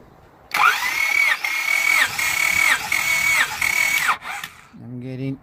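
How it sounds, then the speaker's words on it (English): Engine cranking over during a compression test for a misfire, the starter turning in about four rhythmic bursts with a whining, pulsing drone, then cutting off abruptly, followed by a short tonal beep. "Gonna crank the engine over."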